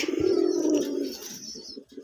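Pigeons at a pigeon farm coo in low, rolling murmurs, loud and close, fading out after a couple of seconds with a few softer sounds at the end.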